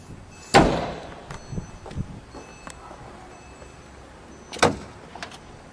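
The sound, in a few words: opening the front trunk of a 2011 Porsche 911 GT3 RS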